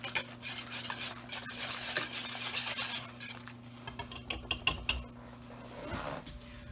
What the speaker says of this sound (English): Give it its final whisk.